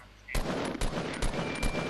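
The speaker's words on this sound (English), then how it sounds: "They're shooting at us." Gunfire in the video game Fortnite comes as four sharp, evenly spaced shots close by, cutting in after a quiet start.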